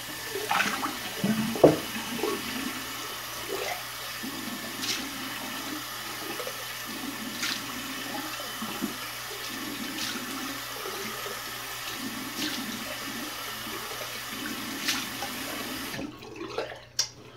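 Water runs steadily from a tap for a cold rinse while washing with soap in a sink, a continuous gushing hiss with occasional knocks and splashes, then cuts off near the end.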